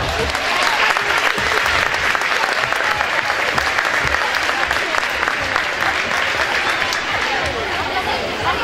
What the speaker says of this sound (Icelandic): við skulum gefa öllu þessu góða fólki gott klapp